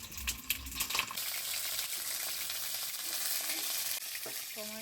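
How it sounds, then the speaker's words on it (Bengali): Pointed gourd pieces frying in hot oil crackle and splatter steadily, with sharp pops and stirring clatter near the start and a dense close sizzle throughout. "প্রচণ্ড তেল ছিটে, কারণ পটলের শরীরে অনেকটাই জল থাকে"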